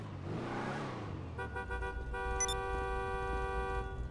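A car horn in the video game GTA V Online sounds in a few short toots, then one sustained blare, over a steady engine-like hum; an earlier stretch has a low rumbling voice-like tone.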